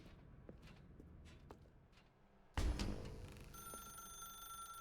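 A telephone in The Stanley Parable video game begins ringing after quiet footsteps, a sudden bright bell-like ring that continues steadily and fairly close, with no voices.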